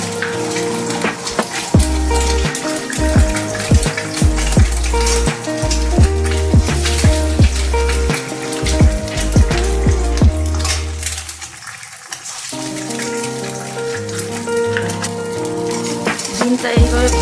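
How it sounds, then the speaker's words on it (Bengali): Eggs fry in a pan on a gas stove, a steady loud sizzle with the scrape and clatter of a spatula stirring throughout, and no talking. "প্রথম ডিমগুলো ভেজে নেব"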